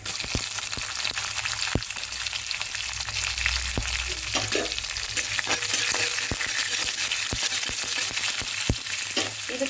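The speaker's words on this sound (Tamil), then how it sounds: "இதெல்லாம் நல்லா பொரியட்டும்" Fennel seeds, green chillies and curry leaves fry in hot oil, giving a continuous bright sizzle and crackle with scattered sharp pops and occasional stirring clinks, close and steady throughout.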